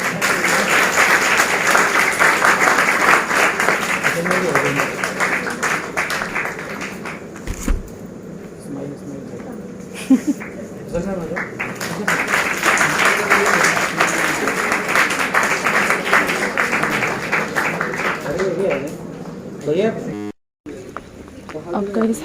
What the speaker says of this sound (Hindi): जोरदार तालियां आनी चाहिए